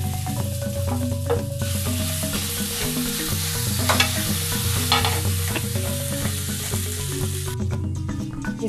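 Spoon stirring potato paste with chopped green coriander in a hot pan, a steady close sizzle with repeated scraping strokes throughout, no talking.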